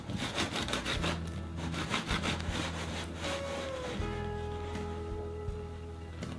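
A serrated knife saws back and forth through a Bienenstich cake base on a worktop, quiet rhythmic rasping strokes close up that slow and fade into softer scraping toward the end.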